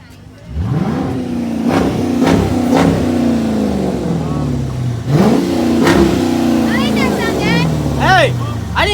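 A 4-cylinder car revs hard at a street car meet in Mexico, several loud rising and falling engine sweeps close by, while people talk and shout over it.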